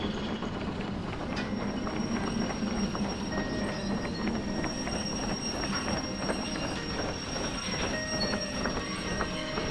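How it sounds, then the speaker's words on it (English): Steam locomotive shunting in the train simulator game Derail Valley, a continuous dense rumble of rolling wheels and rail clatter with faint squeals and clanks throughout, steady and moderately loud. "Shunting stuff here with the steam locomotive"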